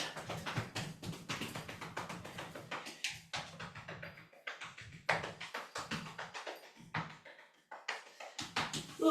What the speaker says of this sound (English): Let's get the kidneys going again with some knocking on the kidneys, tapping on the adrenal glands